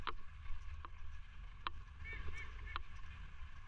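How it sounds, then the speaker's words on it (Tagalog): Birds calling near the coast by a lighthouse on a windy day, several short honking cries spaced apart over a steady low rumble of wind and sea, moderately distant. "Ang daming ibon."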